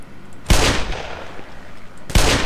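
Two pistol shots fired in the video game Black Mesa, each a loud sharp crack with a brief ringing tail, spaced over a second apart, no talk.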